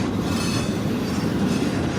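A freight train crawls slowly past nearby, a dense continuous rumble of rolling wagons with a faint rhythmic clatter, steady throughout and without voices.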